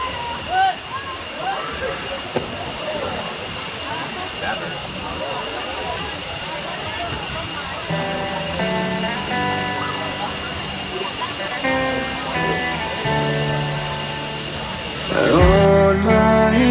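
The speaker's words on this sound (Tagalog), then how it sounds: "Enjoy Klong Chau Waterfall." Klong Chau Waterfall on Koh Kood pours in a steady broadband rush of falling water, with a voice talking over it for much of the stretch and music-like tones joining toward the end.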